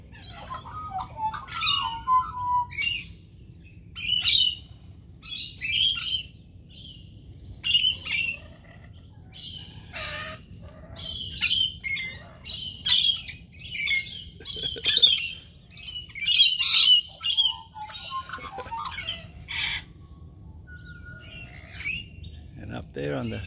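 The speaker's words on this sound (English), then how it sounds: "And a magpie, and a magpie." Magpies call near Bundeena and Cronulla Bay. Repeated bursts of bright squawks and warbles come at irregular intervals over a steady low rumble, with no talk.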